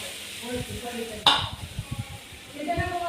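Gram flour (besan) cooks in a hot tempering in a pan, with a quiet sizzle under repeated stirring scrapes and one sharp utensil clink near the middle.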